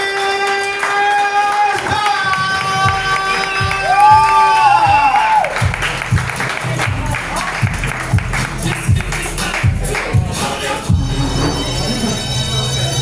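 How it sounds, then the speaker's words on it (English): A comedy show audience at a pizzeria restaurant claps and cheers loudly, a dense wash of applause with whoops and shouts, while music plays and a voice carries over the crowd. "So please, clap it up, clap it up, clap it up."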